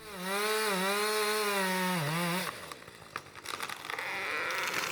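A chainsaw felling trees into a stream in a wooded clough, first revving loud and steady with a rising and falling pitch, then cutting into wood with rougher, uneven buzzing.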